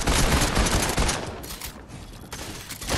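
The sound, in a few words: SMG gunfire in a video game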